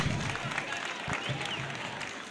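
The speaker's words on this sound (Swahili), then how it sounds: "Let us continuously clap." An audience at a high school event claps continuously, a steady dense patter of many hands at even volume throughout, heard somewhat distant as if through a live stream.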